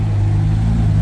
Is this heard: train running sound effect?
no